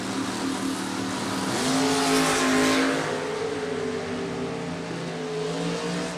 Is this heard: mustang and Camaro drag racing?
yes